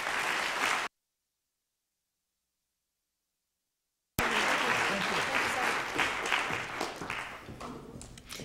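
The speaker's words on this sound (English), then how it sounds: "Let's give Ken a round of applause." Applause at a university faculty assembly, a room of people clapping briefly, then a gap of dead silence, then clapping resumes with some voices mixed in.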